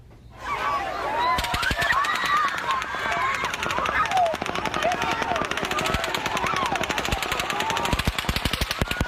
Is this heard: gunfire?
yes